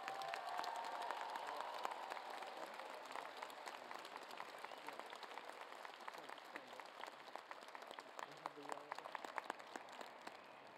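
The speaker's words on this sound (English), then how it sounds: "Please join the Dean in a round of applause for all our doctoral degree recipients." Sustained applause from a commencement ceremony crowd honoring doctoral degree recipients, steady dense clapping throughout with faint cheering mixed in, heard from a distance in a large hall.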